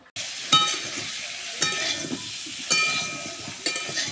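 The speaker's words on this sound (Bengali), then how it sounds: "এখানে আমি বড় আলুটা ভেজে নিচ্ছি" A large potato frying in a pan, cooked as a vegetable dish for Lakshmi Puja, gives a steady close sizzle. Four soft clatters of stirring or turning land at roughly one-second intervals.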